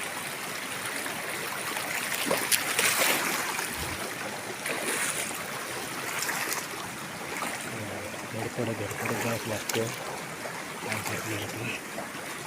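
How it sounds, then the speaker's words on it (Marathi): A village waterfall pours in a steady broadband rush of falling water, close and continuous, while people talk and call out over it. "किती पाणी होतं आहे बघा धबधबा"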